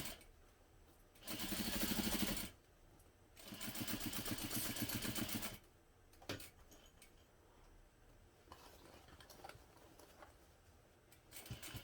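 A sewing machine stitches a bag lining in two distinct runs of rapid, buzzing stitches, each lasting a couple of seconds with a short gap between. Light handling clicks and rustling of fabric follow.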